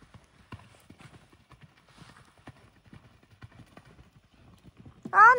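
Horse hooves clip-clop in a quick, even rhythm during a riding lesson, soft and steady, before a short loud neigh bursts out at the end.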